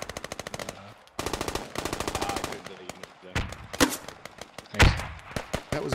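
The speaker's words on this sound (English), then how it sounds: "That was a fucking bullet whizzing past my head." Rapid machine gun bursts crackle in the Squad military shooter game, with sharp gunshots and a close whizzing crack of a passing bullet; loud repeated volleys with brief pauses, a voice faintly present underneath.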